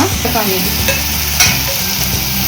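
Minced mutton keema tossed into a frying pan sizzles loudly and continuously while a spatula stirs and scrapes through it, close to the listener, with no speech.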